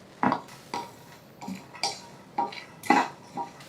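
Sesame seeds, dry grated coconut and peanuts dry-roast in a pan for stuffed eggplant, giving a series of sharp, separate crackles and clinks about every half second, close and clear with no talk.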